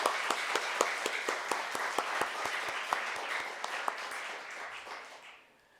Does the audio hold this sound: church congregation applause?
yes